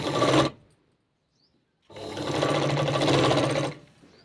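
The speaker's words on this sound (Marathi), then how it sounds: "तर याला इथं बरोबर शिवून घ्यायचं आहे" A sewing machine stitches a long sleeve design on a Paithani-style garment, running in two steady whirring bursts with a short pause between them and no talk over it.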